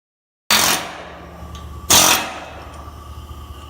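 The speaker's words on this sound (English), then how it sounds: "Swap our air hammer out here." A pneumatic air hammer with a chisel knocks out rivets on a 1981–87 one-ton 4WD truck frame: two sharp, loud bursts about 1.5 seconds apart, each ringing off into a lingering metallic decay, with no voices.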